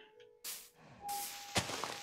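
A few brief wooden thunks ring out as a tree is chopped down in Minecraft Beta 1.16.0.51, close and quiet, with one sharper whack near the end.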